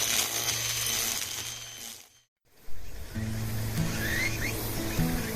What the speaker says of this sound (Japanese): 今回は牧田の草刈り機が新登場です。